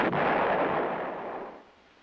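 An M110 self-propelled 8-inch howitzer fires one heavy, booming shot that rolls out and fades over about two seconds.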